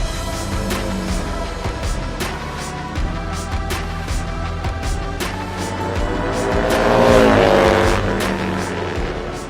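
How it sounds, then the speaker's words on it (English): A Harley-Davidson bagger motorcycle on a racetrack roars past on a flying lap, its loud engine drone swelling as it nears and fading away, with other engine noise in the background. "The first flying lap, Kyle comes by with a thumbs up to the team"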